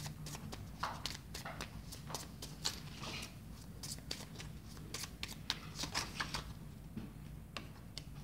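Tarot cards being shuffled in a steady run of crisp riffling flicks and soft slaps, close and fairly quiet, with no talk over them.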